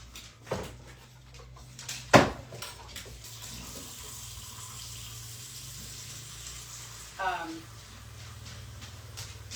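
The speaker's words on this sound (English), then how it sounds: "we're just gonna add some water to that to thin it out to where I need it" Water from a tap pours into a creamy oat mixture to thin it during a meal-prep session, a short splashing burst amid kitchen handling noises and light clatter, fairly close.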